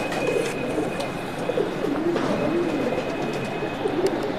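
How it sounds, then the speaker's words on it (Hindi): Pigeons coo softly and repeatedly in low, rolling calls over a steady background hum, with no one speaking. "जनाब पिपला मियां तो आया कबूतर शेरे पंजाब"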